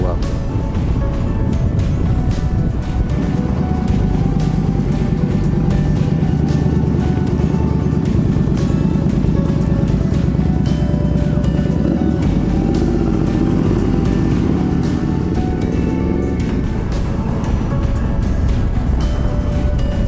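A Harley motorcycle cruises along a coastal road, its engine droning loud and steady the whole time, with wind roar and someone talking over it.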